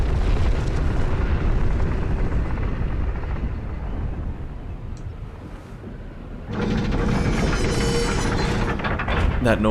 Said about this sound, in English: The grinding, the stone churning noise, the squeal of metal on metal.